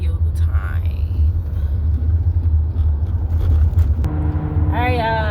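Steady low rumble of a car interior while driving, continuous and fairly loud, with a voice briefly speaking near the end.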